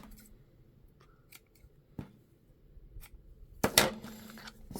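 Scissors trim ribbon for a craft bow, giving a few quiet snips and a louder double cut near the end against a quiet room.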